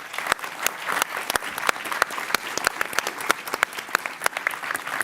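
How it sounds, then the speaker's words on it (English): Applause from the audience at the Helsinki Security Forum for a panel, crisp individual claps forming a steady, moderately loud round for several seconds. "just to ask everyone here to give a round of applause for what I think is a"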